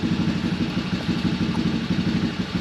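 A 1999 Honda Recon 250 ATV engine idles close by, a steady low putter with a fast, even pulse and light mechanical clatter that holds throughout without variation.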